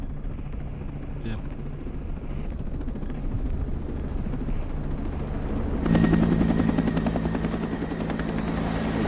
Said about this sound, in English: creepy drones. Drones! Not the drones.